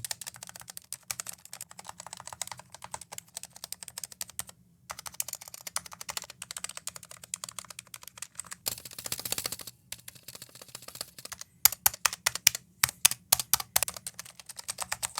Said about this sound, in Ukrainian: Досить унікальне звучання тайпінгу в бладі тут вийшло